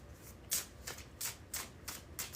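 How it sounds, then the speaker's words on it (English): Tarot cards being shuffled by hand in quick bursts, about six crisp riffling swishes in an uneven rhythm, close and fairly quiet with no talking. "All right, 3 more shuffles."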